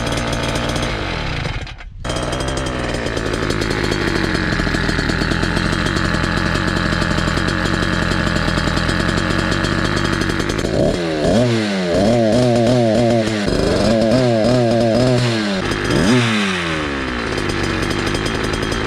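A motorized bicycle engine fitted with a cheap chainsaw carburetor runs loud and close, a raspy two-stroke buzz holding high revs, then dropping and surging in repeated wavering pulls as the RPM falls and climbs.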